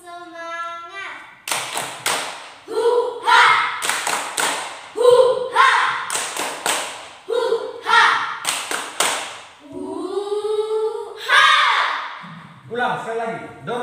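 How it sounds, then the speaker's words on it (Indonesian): A class of children does a rhythmic 'tepuk semangat' group clap in an Indonesian primary school classroom: several bursts of loud, patterned claps alternating with chanted voices, with a teacher speaking between the rounds. "Jadi tepuk semangat, semangat. Tepuk semangat."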